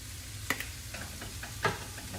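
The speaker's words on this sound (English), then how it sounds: "I'll stir it around" Mexican fried rice made from leftovers, seasoned with taco spice, sizzles steadily in a pan while a utensil stirs it, with a few distinct scraping clicks over the constant frying hiss.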